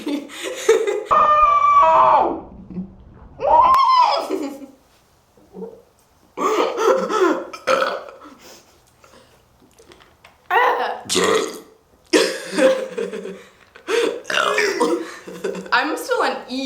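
Repeated loud burps from a person drinking A&W soda, long croaky belches at the start followed by shorter bursts mixed with laughter and chatter between them.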